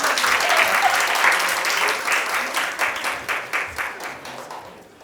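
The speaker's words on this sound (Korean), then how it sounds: "큰 박수로 환영해 주십시오" An audience at a university lecture applauds to welcome a professor to the stage. The clapping is dense and sustained, then thins into scattered claps and fades toward the end.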